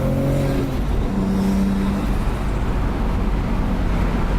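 Car powered by a Nissan RB25 engine, driving and misfiring, heard as a steady engine drone and road rumble with a brief tonal hum early on, moderately loud and with no voices.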